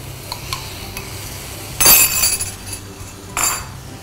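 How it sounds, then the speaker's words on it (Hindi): Chicken liver is stirred in a pan on the stove, giving soft scraping and a few utensil clinks against the pan, followed by a louder burst of sizzling and another brief sizzle a little later. "आणि व्यवस्थित हलवून घ्यायचं आहे, मिक्स करायचं आहे"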